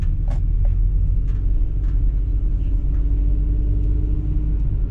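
A car travels steadily along a road between towns, its broadband engine and tire rumble constant and close throughout, with faint brief higher noises drifting over the drone.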